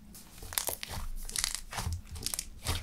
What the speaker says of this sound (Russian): Он классно хрустит